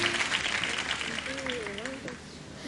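A studio audience at an Iftar transmission applauds in a broad, even wash of clapping while a voice briefly sings or speaks over it.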